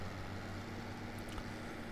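A Zetor 12045 tractor in good condition with 35 engine hours drives along, its engine producing a steady, droning hum with low rumble, continuous and unbroken throughout.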